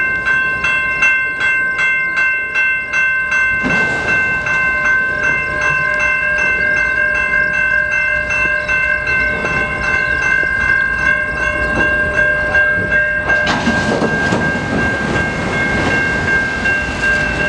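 A Norfolk Southern auto rack freight train rolls slowly out of a river rail yard near a road crossing, a steady rumble and wheel clatter carrying throughout with crossing bell tones ringing above it, the noise surging louder near the end.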